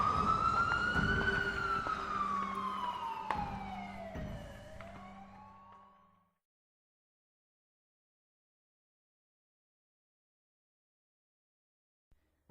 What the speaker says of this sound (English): the paramedic in the driver's seat turned on the siren and drove